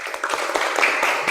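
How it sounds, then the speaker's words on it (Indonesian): Short burst of applause for a student group in a classroom, a brief patter of hands clapping at moderate level. "Tepuk tangan untuk kelompok 2."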